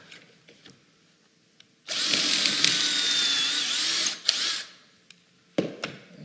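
A power drill bores a hole into a 1.5-inch-thick wooden mantel shelf, running in a loud, steady whine for just over two seconds, then briefly again after a short pause, with quiet handling clicks around it.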